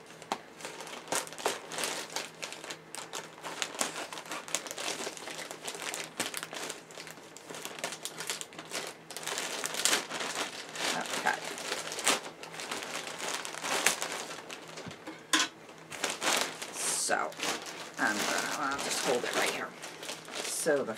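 Plastic wrapping crinkles continuously as a yarn package is opened, close and fairly loud, with a voice talking over parts of it.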